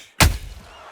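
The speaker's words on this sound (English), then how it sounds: "A perfect counter shot." A single sharp, heavy impact of a counter punch landing in the boxing video game Undisputed, a sudden loud thud with a brief booming tail and no talk.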